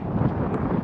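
Strong wind gusting across the microphone at Lake Catherine on a Utah mountain hike, a steady close rushing buffet with no other sounds.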